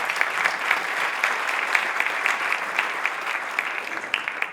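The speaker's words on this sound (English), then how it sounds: "Let's give Julie a big round of applause." A seated audience at a Rotary luncheon meeting in Cincinnati claps in a steady, dense round of applause lasting several seconds without voices over it.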